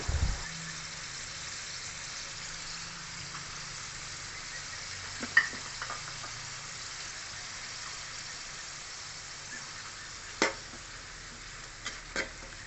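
Chicken bopis with ketchup sizzles softly in a pan as it is stirred, a steady low hiss broken by a few scattered scraping clicks of the utensil.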